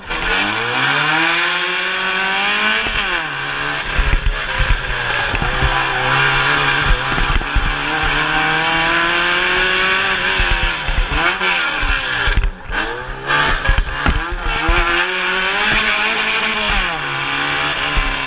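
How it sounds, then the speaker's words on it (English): Racing car engine revving hard and close, a loud buzzing roar that climbs and drops repeatedly in pitch with sharp throttle blips, no talk over it. "this is his actual racing car"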